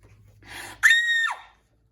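A girl lets out a single sharp, high scream that rises abruptly after a brief breathy lead-in, holds for about half a second, then slides down and cuts off into silence, loud and close.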